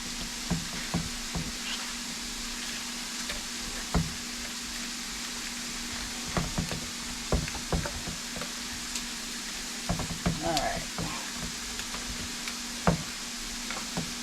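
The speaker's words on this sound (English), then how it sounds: "So we're going to mix this all together." Spaghetti casserole ingredients are mixed together in a pan, producing irregular close taps, scrapes and knocks of a utensil over a faint sizzling hiss.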